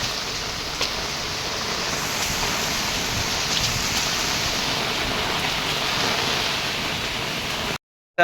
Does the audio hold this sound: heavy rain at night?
yes